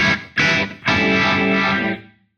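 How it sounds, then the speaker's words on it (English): Guitar runs through an Eventide Riptide set to its green overdrive, two short driven chord stabs and then a longer sustained chord ringing out and fading, loud and close with no talking. "Let's go with the green overdrive."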